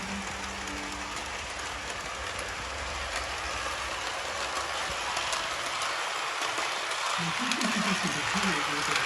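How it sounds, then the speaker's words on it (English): A subway toy train set runs with a steady rolling rumble and clatter, loud and continuous, with a voice speaking over it. "The train is departing."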